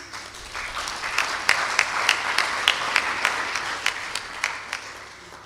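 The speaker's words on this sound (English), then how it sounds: "So I think give yourselves a round of applause." Audience applause at an awards ceremony and gala dinner, a steady wash of many hands clapping with sharp individual claps standing out, moderately loud and sustained throughout.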